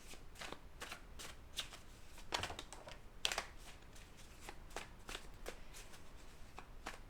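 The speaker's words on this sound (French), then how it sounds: "je vais prendre 6 cartes. Des grandes cartes." Large cards handled and drawn from a deck, giving a quiet, close, irregular run of soft flicks, slides and light taps, with a denser shuffling burst in the middle and no talking.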